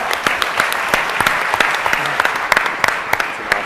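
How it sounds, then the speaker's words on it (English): An audience at TechCrunch Disrupt San Francisco 2011 bursts into loud, sustained applause, dense clapping filling the room with a few sharper individual claps standing out. "Please give one huge round of applause for Openbucks."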